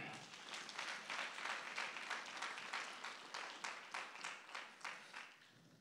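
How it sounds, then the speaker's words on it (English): A church congregation claps together during a prayer and fasting service, a dense steady patter of many hands that holds loud for several seconds, then breaks into slower, spaced claps before fading out. "Go ahead and give God a big hand clap."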